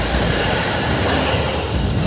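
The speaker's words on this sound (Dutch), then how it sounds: "Oh, een tram!" A tram rolls past on a city street, a loud continuous rumble of wheels on rails with broadband noise filling the whole moment, close and steady.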